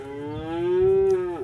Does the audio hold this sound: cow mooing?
yes